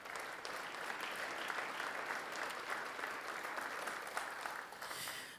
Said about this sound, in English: I encourage you to give them another round of applause for their dedication and hard work